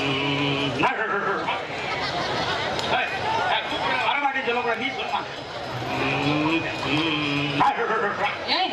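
A performer in a Tamil village temple-festival stage drama imitates a dog, loud barking, yipping and whimpering voiced over lively stage sound, with other voices speaking around it.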